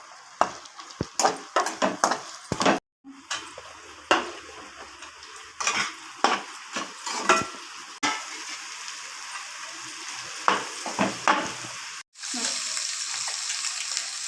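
Carrots sauté in a pan for chicken noodles, a frying sizzle broken by the scrape and clatter of a utensil stirring against the pan, with short pauses and a steadier hiss toward the end.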